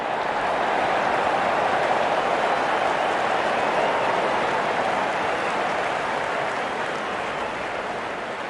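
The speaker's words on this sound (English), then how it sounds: "the umpires coming together to decide whether play can continue in this heavy rain" Heavy rain pours down over a cricket match in the video game Real Cricket, a dense, steady hiss that stays loud and unbroken throughout, easing only slightly toward the end.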